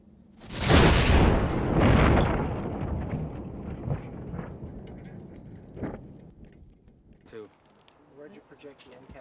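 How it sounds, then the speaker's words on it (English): A small pipe bomb packed in a cardboard carton beside a car goes off in one sharp, loud blast, followed by a rumbling decay and a few scattered faint knocks and rattles. "This explosion was so powerful that part of the cardboard carton pierced the car's steel door"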